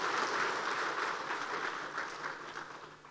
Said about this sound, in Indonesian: Tepuk tangan Pak Menteri.